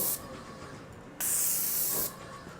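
A Graco pressure-fed paint roller releasing paint with a steady spray-like hiss, a short burst near the start, then a louder sustained hiss for about a second after a brief pause, with no talking.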